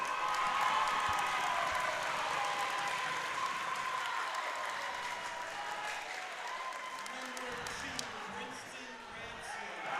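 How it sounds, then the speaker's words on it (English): Sustained applause and crowd noise fill a gym during player introductions at a boys' county volleyball tournament, moderately distant, with a few thuds and voices beneath the clapping. "It will be Briston Ransom who draws the applause"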